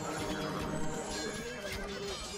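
A horse whinnies clearly over dense, busy game-battle sound and hoofbeats in Age of Empires 2, with horse archers in the fight and everything mixed into a loud, continuous wash.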